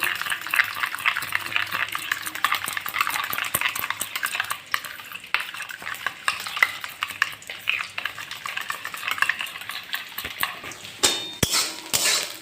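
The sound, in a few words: whisking yogurt with cumin and chili powder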